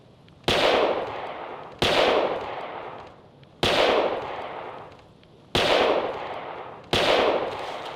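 Five loud, booming gunshots from the hunting game Carnivores ring out one at a time, about a second and a half apart. Each shot has a long, fading echo tail, and no one talks.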